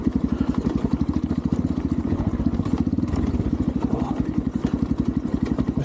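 A 250 TemplarX dirt bike engine runs steadily while ridden, its rapid, even firing pulses filling the clip up close with a rough, mid-pitched drone and some mechanical clatter, no talking over it.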